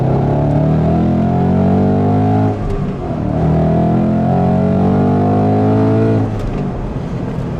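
A supercharged, otherwise stock 2015 Ford Mustang GT engine revs hard and loud, holding a sustained roar with two brief dips as the throttle eases before it climbs again.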